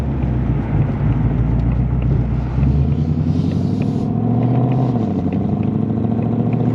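A 2024 Ford Mustang Dark Horse with its 500 hp Coyote V8 cruises along, a deep, steady exhaust rumble filling the cabin as the engine note drops and climbs through a couple of gear changes.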